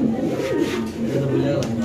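A white Mundian pigeon coos in short, soft, throaty rolling calls close by, with someone talking over the cooing throughout.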